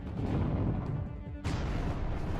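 Flak barrage weapons fire in the space strategy game Halcyon 6: Starbase Commander, a dense rumbling barrage of booming blasts that keeps going, with a sharp fresh burst partway through.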